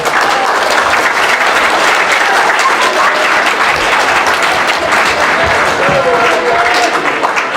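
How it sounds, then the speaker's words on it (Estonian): A crowd at a school Christmas party gives a big, loud round of applause, dense and sustained clapping filling the hall evenly for several seconds without a break. "teeme suure aplausi neile"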